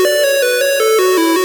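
Square-wave synth melody from Serum, played with velocity not tied to oscillator level, so every note stays the same loudness; a steady run of about eight bright, buzzy, evenly spaced notes stepping gradually downward, clear and alone.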